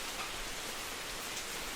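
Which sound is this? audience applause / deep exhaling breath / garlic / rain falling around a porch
rain falling around a porch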